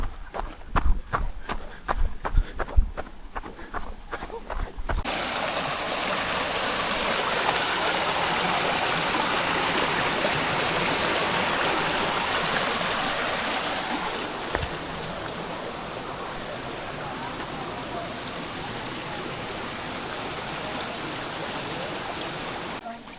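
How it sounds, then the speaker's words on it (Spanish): Strong river water in Krka National Park, Croatia, rushes in a loud, steady broadband roar, preceded by a few seconds of rhythmic footsteps of a trail runner before the flow takes over and continues unbroken. "aquí pasa mucha agua, que significa una cosa, agua tiene bastante potencia"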